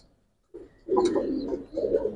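Pigeons at a farm keeping Giribaz and coloured breeds coo nearby in soft, throaty bursts after a brief silence, with one short pause between calls.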